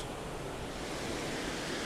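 Ocean surf at Waimea Bay on Oahu's North Shore, famous for big winter waves, roars as a steady, broad wash of breaking water with wind noise, continuous and fairly loud, with no voices.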